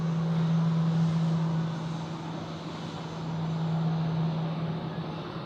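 Austrian Airlines airliner bound for Vienna at foggy Zurich Airport, a steady engine drone with a strong low hum, swelling and easing slightly, heard alone without voices.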